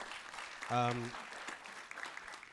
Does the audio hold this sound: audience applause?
yes